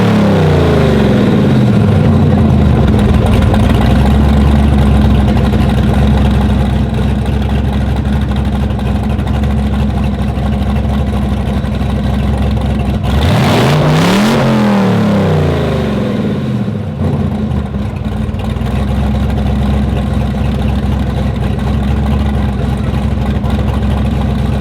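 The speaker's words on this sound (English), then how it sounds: "How high RPM you think that was in revving it?" A car engine revs hard on a dyno, a loud sustained roar climbing and holding at high RPM for over twenty seconds, with a sharp surge and swooping pitch change partway through, no voices.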